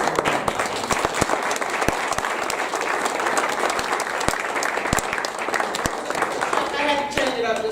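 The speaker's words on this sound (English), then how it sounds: "give a round of applause to your Phoenix Police Department" Audience applause at a Phoenix community meeting with police chief Jeri Williams, welcoming the Phoenix Police Department. The dense, even clapping holds steady for several seconds and eases near the end.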